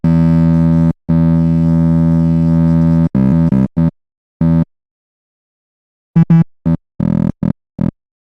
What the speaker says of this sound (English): I can pan them independently and have different distortions on each